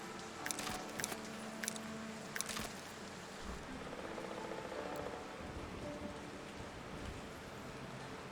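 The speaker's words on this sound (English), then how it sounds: "It's raining. It's so annoying." Rain falling in the coastal city-building video game Foundation, a soft, steady patter across the whole stretch, fairly faint, with a few sharp brief clicks early on and no talking.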